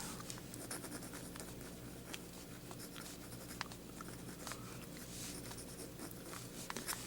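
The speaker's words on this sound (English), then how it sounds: "So we're just going to draw this out really quick." A pencil sketches a wolf outline on paper or board with a soft, steady scratching and rapid light strokes, close and continuous over a low background hum.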